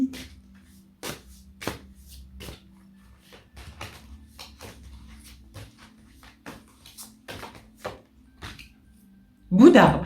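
Oracle cards being shuffled and drawn by hand: soft, scattered card flicks and taps over a low steady hum, ending in a brief louder burst of sound.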